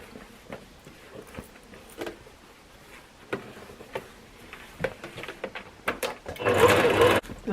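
A sewing machine stitches all the way around a bag pocket in short, uneven bursts of rapid ticking, with a longer, louder run near the end.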